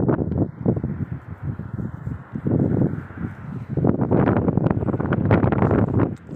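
Wind gusts buffet a rooftop in Riyadh in the morning, producing loud, uneven rumbling bursts of wind against the microphone with no speech.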